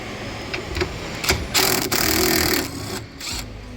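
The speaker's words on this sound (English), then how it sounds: "we're gonna remove this 10mm nut here" A tool spinning off a 10mm nut during an AC condenser replacement on a Chevy Traverse or GMC Acadia, a close, loud mechanical whir in short bursts with a brief pause before a final run.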